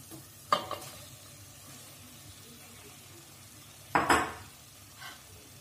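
A spoon mixes cooked rice into tomato masala in a pan, giving two short bursts of scraping and clinking over a faint, low sizzle, with quiet pauses between.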